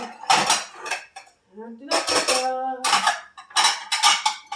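Metal pie pans and plates clatter and clank in repeated bursts as they are rummaged through nearby, with a brief gap between clusters of ringing impacts.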